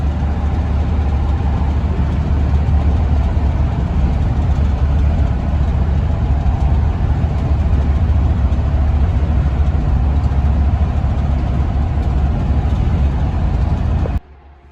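A 2007 Roadtrek Popular 210 motorhome cruises on a highway above 75 mph, its engine and road noise forming a loud, steady, low drone heard from inside the cab until an abrupt cut near the end.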